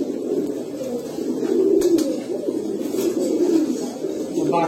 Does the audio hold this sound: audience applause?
no